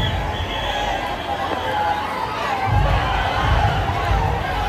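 A dense festival crowd roars and cheers without pause as the Ganpati idol arrives at the Chinchpokli Chintamani procession in the rain, with voices shouting through the steady din.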